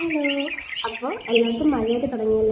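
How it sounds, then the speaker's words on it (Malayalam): Birds chirp and tweet on a rainy morning, fairly close, while someone talks over them throughout. "പിന്നെ കിളികളുടെ സൗണ്ടൊക്കെയാണ് കേട്ടോ"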